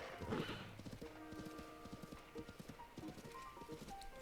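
A horse in the video game Zelda Tears of the Kingdom, with a snort and a whinny followed by steady clip-clop of hooves in a quick, even rhythm, close and clear over a soft game backdrop.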